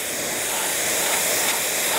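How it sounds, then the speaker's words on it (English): Pressure-washer spray hitting ATV trailer wood to rinse off residue, a loud, continuous close hiss of water that holds steady throughout with no pauses. "We're ready to spray all this stuff off one more time."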